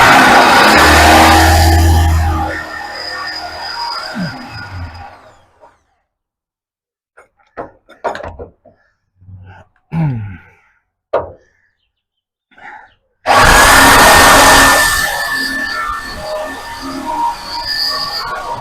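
A power drill whines loudly for a few seconds while drilling a hole for a leaf spring upgrade on a 1933 Chevy coupe, goes quiet apart from scattered clicks and knocks, then starts up again and runs steadily.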